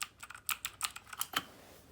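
Crisp, clicky keystrokes on an RK61 keyboard with Cherry MX Blue switches, a quick irregular run of sharp taps close to the mic with no voices.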